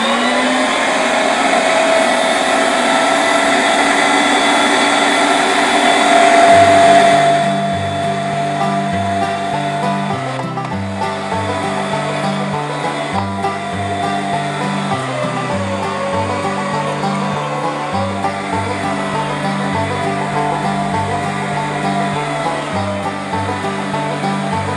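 Gander Mountain electric meat grinder grinding beef fat: a loud whooshing hiss opens, then the motor settles into a steady mechanical whir with a rhythmic, pulsing drone that runs unbroken throughout.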